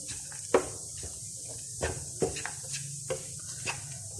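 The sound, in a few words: stirring fried nuts into makhadi halwa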